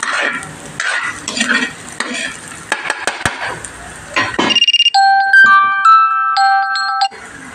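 Sliced onion and garlic frying until golden brown: close sizzling with spatula stirring and scraping, followed by a melodic electronic ringtone chiming alone for a few seconds.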